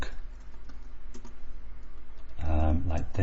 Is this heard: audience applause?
no